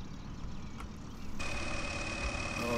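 A tractor engine idles loudly in Farming Simulator 2013, a steady low rumble with a thin whine that grows stronger partway through and holds to the end.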